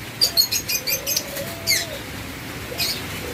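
Caged lovebirds in a pet bird shop, several short sharp chirps and bursts of wing flapping close by, with a quiet whistle-like call in between.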